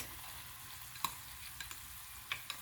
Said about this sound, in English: Next I'm gonna add my onion paste